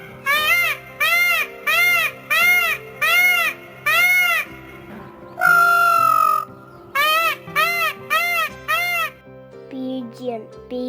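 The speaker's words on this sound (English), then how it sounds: "Peacock makes scream sound." A peacock gives a series of loud, piercing, wailing screams in rapid repeated bursts, one longer drawn-out cry in the middle, then more short calls before a brief tail of other sound.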